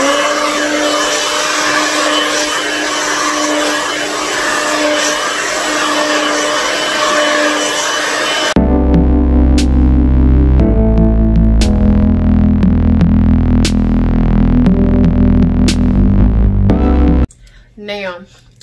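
A blow dryer roars steadily while drying hair, a loud continuous whir that shifts to a deeper, heavier hum partway through before cutting off near the end.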